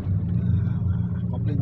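A manual car's engine hums and rumbles as the gas is pressed during a driving lesson, a low steady drone heard close from inside the cabin while an instructor talks over it.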